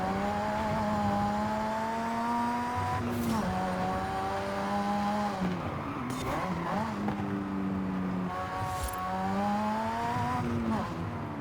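Sustained engine revving from a tuned front-engine, rear-drive car in Forza Horizon 5, with long drawn-out revs rising and falling through gear changes, loud and continuous, with tire noise mixed in.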